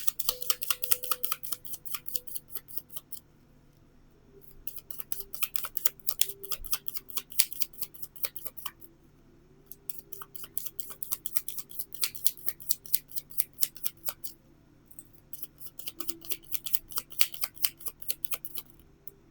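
Oracle cards being shuffled, heard as four bursts of rapid, crisp riffling clicks separated by short pauses, close and fairly quiet, with no voices.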